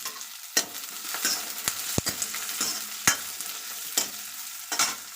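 Onion fries in a pan for a potato and zucchini (tori) curry, with a steady sizzle broken by sharp scraping clicks from a spatula stirring, close and clear with no voices.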